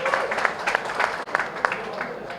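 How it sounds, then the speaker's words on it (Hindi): Crowd applause at a fight night face-off between two female fighters, a brief burst of clapping with some voices mixed in, close and fairly loud with a momentary dip midway. "तो दोनों लड़कियों के लिए ज़ोरदार तालियां"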